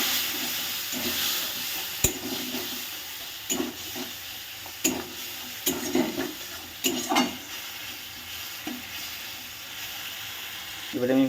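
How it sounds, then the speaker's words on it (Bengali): Water splashed into a hot pan of potol (pointed gourd) cooking in mustard sauce gives a steady close hiss and sizzle, broken by sharp scrapes and clatters of stirring. "এর মধ্যে একটু জল অ্যাড করছি।"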